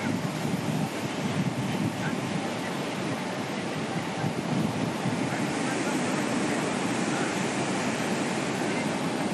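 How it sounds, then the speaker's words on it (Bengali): Strong coastal wind and surging sea at Digha as Cyclone Montha nears, a loud, dense, unbroken roar of gusts buffeting the microphone over crashing waves, with a voice faintly audible beneath. "পূর্ব মেদিনীপুর, দীঘা, হাওয়ার গতি বাড়ছে।"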